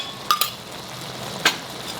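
A spoon stirring carrot halwa with khoa in a pan gives two sharp, brief metal clinks about a second apart over a quiet, steady background.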